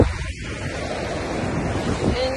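Ocean waves wash in on a chilly California beach in a loud, steady surf roar, with buffeting wind noise on the microphone.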